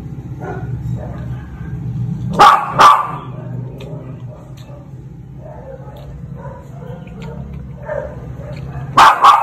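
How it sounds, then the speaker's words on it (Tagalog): A dog barks in two sharp bursts, then again near the end, loud and close, with quiet background noise and faint voices between. "Kaso lang ingay ng aso namin."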